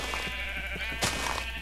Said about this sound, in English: let's end this video on killing a sheep.